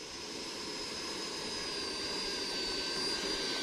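An FMS Rafale delta-wing RC jet with electric ducted fan gives a steady, high, sustained whistle with a constant rushing roar throughout, heard close and fairly loud without talk.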